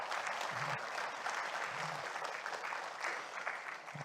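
Audience at a memorial ceremony for Shin Young-bok claps steadily, a dense sustained round of applause from a seated crowd filling the whole stretch.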